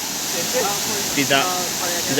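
Steady, full rushing water from Campuhan waterfall in Bali fills the scene as a constant roar, with a person speaking faintly over it.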